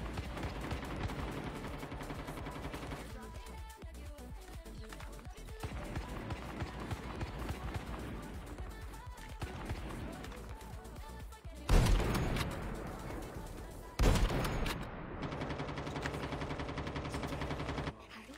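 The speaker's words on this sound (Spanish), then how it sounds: "Se escuchan balazos." Gunfire in a battle royale video game rattles in bursts and single cracks, mostly at a distance, with two louder nearby blasts later on, heard under quiet game ambience and occasional talk.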